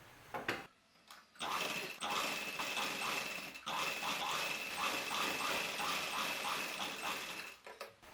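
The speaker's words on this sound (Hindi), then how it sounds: "यहाँ ऊपर से दाब सिलाई लगाएंगे। बिल्कुल किनारे से लगाएंगे, थोड़ा सा छोड़ के।" A sewing machine runs steady topstitching along the edge of a dhoti salwar, with buckram folded inside, its fast mechanical whir continuous and close, broken by a few short pauses and no talk.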